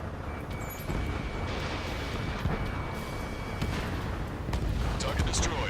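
Ace Combat 7 battle audio carries a steady roar of jet engines under scattered gunfire and booming impacts. The dense, loud bed of sound runs throughout, with voices speaking over it.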